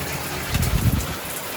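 Water streams from a shower head onto a potted orchid, a steady splashing hiss that swells briefly in the middle before settling back.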